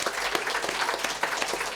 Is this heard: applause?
yes